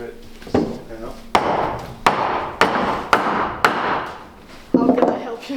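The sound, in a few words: hammering wood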